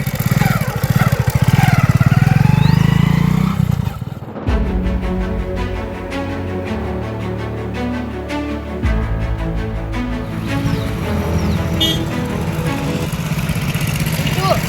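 A motorcycle engine runs steadily at close range, its low rumble continuing throughout while someone talks over it.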